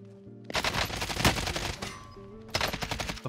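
AK rifle fire in the video game Call of Duty Warzone, a loud fast automatic burst of rapid shots that pauses briefly and then resumes, with no talk.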